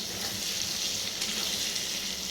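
Spices being stirred in a pan for a thin hilsa fish curry as a little water goes in, giving a steady, bright hiss and sizzle, close and continuous, with no talking.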